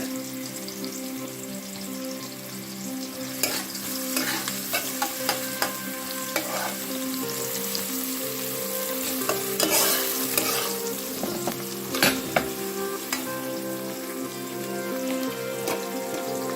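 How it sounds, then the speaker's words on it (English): Chopped onions and minced garlic fry in a pot for curry aloo and channa, with a loud, steady sizzle like pattering rain and repeated metallic stirring clinks and scrapes. "So now I'm going to add some chopped onions. Some minced garlic."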